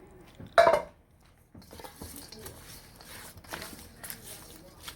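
German potato salad with dressing is shaken in a bowl, opening with a loud clattering rattle and then continuing as softer scattered shuffling and clinking, close by.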